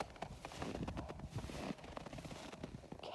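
A horse walking on a frozen farm in a North Mississippi winter storm, faint irregular hoof clops close by over low background noise.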